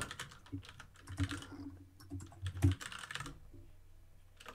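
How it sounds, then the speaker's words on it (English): Keys clatter on a computer keyboard in quick, uneven bursts, close and fairly soft, with a few louder strikes and brief pauses between runs of typing. "you're typing it in while I'm searching for it"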